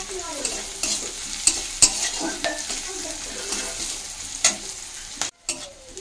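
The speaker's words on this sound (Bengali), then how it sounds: "তো আমি এখন এই যে পেঁয়াজ ভেজে নিচ্ছি" Onions fry with two slit green chillies in a hot pan, a steady close sizzle broken by repeated spatula scrapes and sharp clinks against the metal.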